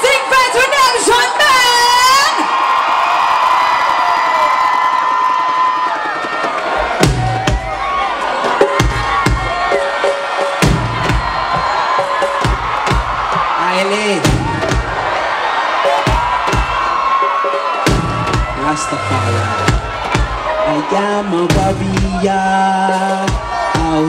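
A concert crowd at Mas Camp 2017 greets a reggae artist's entrance with loud, continuous cheering and yelling. A booming voice on a PA carries over the roar while music plays throughout.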